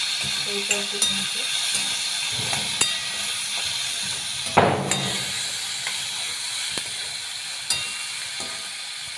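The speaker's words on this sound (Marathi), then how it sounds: "अद्रक लसूण सगळं टाकायचं आहे सगळं परतून घ्यायचं" Onion, ginger and garlic sautéing in a pan, a continuous close sizzle and hiss with scraping stirs and a louder burst midway.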